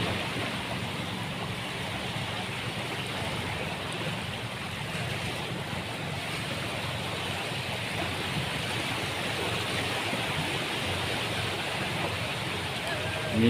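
Sea waves churn near incoming fishing boats, a steady, loud broadband wash mixed with wind buffeting the microphone, continuous for the whole stretch.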